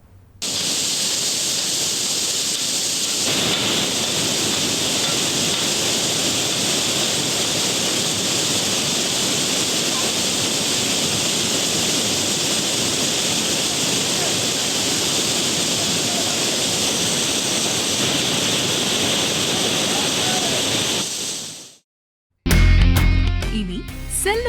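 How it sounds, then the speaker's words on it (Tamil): Flooded Kutralam waterfalls, including the Main Falls, Five Falls and Old Kutralam, roar in a loud, steady broadband rush that holds for over twenty seconds before cutting off abruptly. "மெயின் அருவி, ஐந்தருவி, பழைய குற்றாலம் அருவிகளில் வெள்ளப்பெருக்கு ஏற்பட்டிருக்கு"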